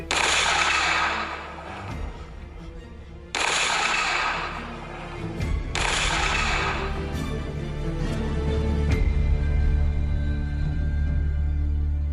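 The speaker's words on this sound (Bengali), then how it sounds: "বাইরে তখন পুলিশের গুলির শব্দ চলছে" Police gunfire used as a sound effect in a Bengali audio story: three loud, sharp shots spaced a few seconds apart, each trailing into a rumbling echo, followed by a low sustained rumble.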